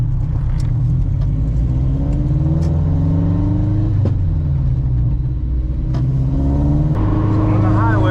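A Honda Civic with a swapped B-series B18 engine accelerates hard while merging onto a highway, its engine note climbing through the revs, dropping at gear changes, then climbing again, loud and close from inside the car.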